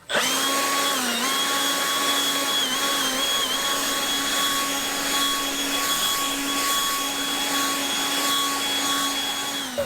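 A battery-powered leaf blower runs continuously at close range with its tube fully extended, a steady high-pitched whine and rushing airflow holding level throughout, with slight pitch dips near the start.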